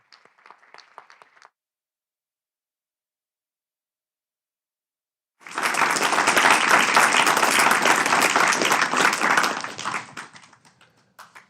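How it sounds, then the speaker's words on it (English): After a few faint scattered claps and a pause, a full round of audience applause breaks out at a memorial poetry reading for poet Kim Blaeser, loud and sustained for several seconds before tapering off. "One more big round of applause for Kim Blaeser"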